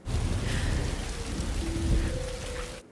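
Rain in a science-fiction film scene, a steady broadband hiss of falling rain with low rumble underneath, fairly loud and continuous before cutting off near the end, with a faint tonal hum from the score.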